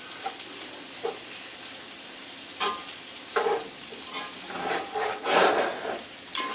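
Brunch ingredients being stirred in a cast iron pan, with a steady close sizzle of frying food and a few short scraping stir strokes rising above it.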